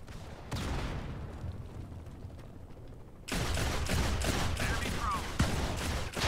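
Gunfire in the first-person shooter Modern Combat 5, with bursts of shots and loud action noise that grow denser and louder halfway through, while a player talks over it.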